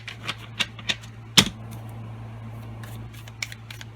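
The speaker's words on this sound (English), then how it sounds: "This is called overhand shuffling." Tarot cards being overhand shuffled give soft papery flicks and taps in an uneven rhythm, close by, with one sharper snap partway through.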